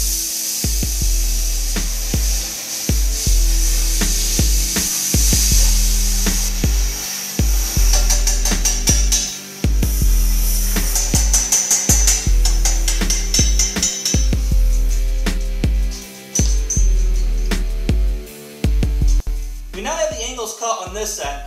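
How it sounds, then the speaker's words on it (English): Angles are cut on tubular steel for a homemade snow plow frame, with repeated loud bursts of a power saw biting into metal, broken by short pauses, ending in rattling handling noise. "So I'm going to go ahead and cut the angles on this that I want"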